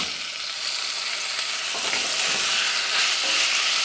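Tomatoes and green chilies fry in a pan for a yellow peas curry, a loud, steady, close sizzle with faint stirring scrapes and no talk.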